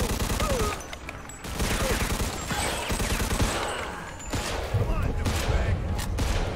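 Rapid gunfire in the video game Mafia II, dense bursts of automatic shots and booms in a running firefight, loud and nearly continuous with a player talking over it.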